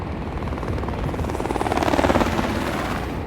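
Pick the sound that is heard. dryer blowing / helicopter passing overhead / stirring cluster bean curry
helicopter passing overhead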